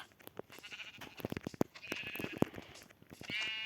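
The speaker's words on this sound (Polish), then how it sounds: "Owca." Sheep bleating in a video game, a few short bleats scattered among clicks and game sounds, fairly quiet and close, with no talking over them.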